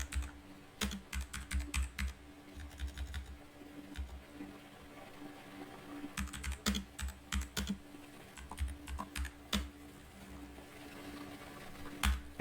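Keys clatter on a computer keyboard as keywords are typed, in soft irregular bursts of quick clicks separated by short pauses, close by and quiet.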